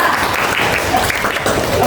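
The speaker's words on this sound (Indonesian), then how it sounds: "terima kasih tepuk tangan buat kita semua" A class claps together in a classroom, a brief, loud burst of many hands applauding that continues through the whole moment, with voices mixed in.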